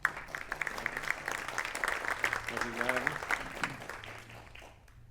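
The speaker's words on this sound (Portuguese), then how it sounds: "Uma salva de palmas." Applause from an audience at the opening of the Eça de Queiroz room at Teatro da Trindade, a busy clatter of clapping heard under a voice speaking briefly, gradually thinning out toward the end.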